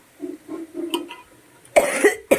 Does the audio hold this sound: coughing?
yes